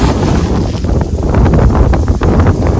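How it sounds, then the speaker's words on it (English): Strong wind blows hard against the microphone outdoors in the woods, a loud, constant rushing buffet with gusty swells and no speech. "Hopefully the wind dies down."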